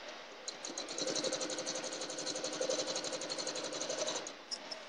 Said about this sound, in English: I do sew over my pins, but you're going to slow down a little bit when you're stitching over those pins